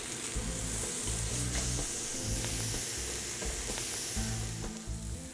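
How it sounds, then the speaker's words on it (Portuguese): Wagyu steak with miso sears in a very hot pan, a steady loud sizzle and hiss with pulsing low crackle, close up and without voices. "Nesse primeiro processo, eu estou apenas selando a carne"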